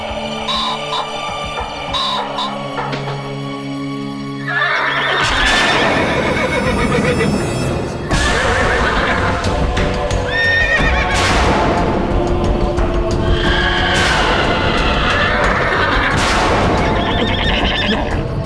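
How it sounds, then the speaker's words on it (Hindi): Several horses neigh and whinny loudly in repeated, overlapping calls, with faint hoof clip-clop. The sound is quieter at first, then full and sustained from about a quarter of the way in. "ये घोड़ों की आवाज कहाँ से आ रही है?"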